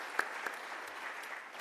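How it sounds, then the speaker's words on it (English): An audience at a transportation summit applauds, a short burst of steady clapping from many hands heard alone, with a few sharper claps standing out. "a round of applause"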